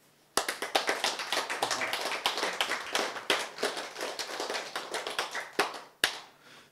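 A lecture audience claps at length, a dense patter of many hands close by with a few louder individual claps standing out, then dying away.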